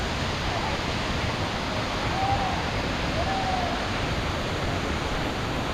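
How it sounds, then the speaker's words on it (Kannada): Soormane Falls pours as a steady, full broadband rush of water, loud and unbroken throughout, with no other sounds standing out. "ಇನ್ನೇನು ಸೂರಮ್ಮನ ಮನೆ ಫಾಲ್ಸ್ ಬಂತು"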